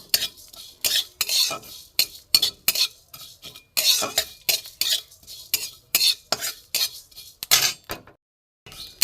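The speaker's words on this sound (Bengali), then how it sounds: "আর জিরে আমি শুকনো কাঠখোলায় ভেজে নেব।" Cumin and five-spice seeds dry-roast in a dry pan while a metal utensil stirs and scrapes them, giving repeated close, sharp clinks and scrapes in an uneven rhythm with short gaps.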